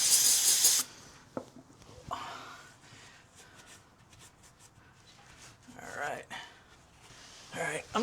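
A can of brake cleaner gives one loud, close hiss of spray lasting under a second, followed by quiet garage handling noises and faint knocks.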